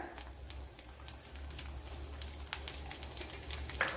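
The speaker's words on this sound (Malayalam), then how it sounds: "ഒരു വൺ ടേബിൾ സ്പൂൺ പെരിഞ്ചീരകം ഇട്ട് കൊടുക്കുക" A tablespoon of fennel seeds sizzling in hot oil in a pan while a squid dish is cooked, a steady close crackle with scattered sharper pops over a low hum.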